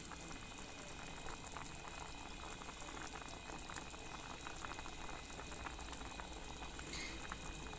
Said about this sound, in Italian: adesso che bolle posso mettere le polpette